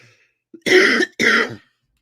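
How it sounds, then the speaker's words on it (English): Two harsh, loud coughs in quick succession, close up, after a short throat sound, then silence. "I'm sorry for coughing all in y'all ear"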